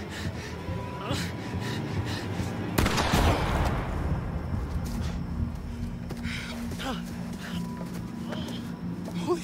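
A single sharp gunshot in the horror video game The Quarry cracks out about a third of the way in over a steady, busy background, followed by faint breathy gasps and murmurs.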